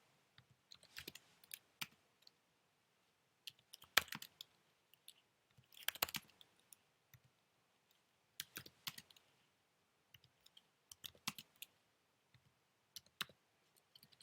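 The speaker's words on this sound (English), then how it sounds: "we're going to type them in the calculator" Numbers are keyed into a calculator, producing quiet, close clusters of light tapping clicks in irregular bursts separated by short silent pauses.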